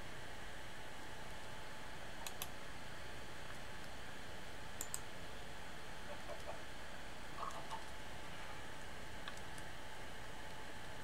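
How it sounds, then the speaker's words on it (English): Chickens clucking in the game Sky Odyssey, short scattered clucks and clicks over a steady hiss of background noise, fairly faint and spread out. "I have no idea where these chickens keep coming from"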